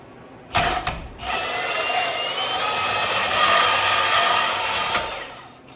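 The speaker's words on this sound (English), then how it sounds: "that cut down real easy with that Milwaukee bandsaw" A Milwaukee bandsaw cuts through an upholstery part during a 1974 Ford F-250 restoration. A brief burst is followed by a steady, loud high-pitched whine that holds for about four seconds, then fades.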